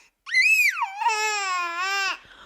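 A voice imitates a baby's cry: a rising wail that breaks into a long, sustained, strained cry, loud and close, then cuts off.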